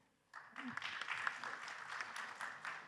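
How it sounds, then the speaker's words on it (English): Round of applause for panelists at a railway technology conference, starting abruptly after a quiet moment and continuing as steady, moderately distant clapping. "please give a round of applause for the panelists"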